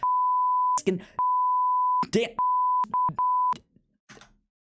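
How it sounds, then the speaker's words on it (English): A loud, steady high-pitched censor beep sounds in several bursts, long then short, with brief snatches of speech between them. "I could beep out myself there the whole time."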